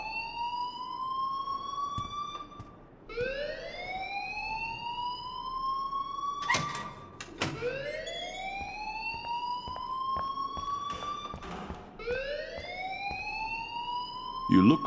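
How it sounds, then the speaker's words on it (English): In the video game Life Is Strange, a school fire alarm wails in repeated rising electronic sweeps, each climbing then cutting off and restarting, loud and continuous, with scattered clatter between cycles. "please turn off that alarm since that's your job"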